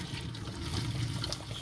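Water is strained off boiled saltfish in a home kitchen, a steady close trickle and gush of liquid pouring out with no talk over it.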